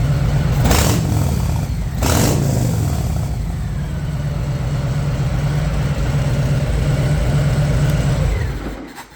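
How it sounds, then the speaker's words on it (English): An engine revs through a Bassani exhaust still holding its packing, two quick throttle blips followed by a steady droning idle, close and loud. "We're going to rev it up a little bit."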